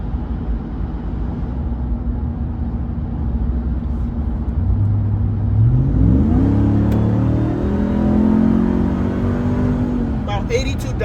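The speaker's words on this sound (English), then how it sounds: "We're gonna do a wide open throttle hit, downshift here." A motorcycle engine with Vance and Hines exhaust idles steadily, then revs hard at wide open throttle with rising pitch, climbing and shifting through the gears at close range.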